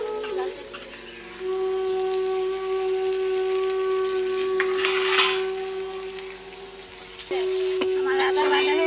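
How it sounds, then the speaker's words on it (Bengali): Shredded cabbage fries in a hot pan for Kashmiri-style bandhakopi, crackling and sizzling steadily up close, with repeated stirring scrapes, a few utensil clinks and a faint continuous hum behind. "এবার আমি বাঁধাকপিটা ভেজে নিই"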